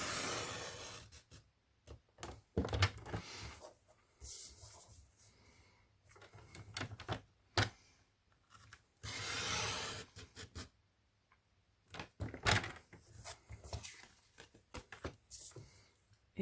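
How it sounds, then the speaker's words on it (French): A blade slicing through card along pre-marked lines makes repeated scraping and crisp cutting strokes, fairly close and quiet, with pauses between the passes and no speech. "Je commence par couper les hauts et les bas."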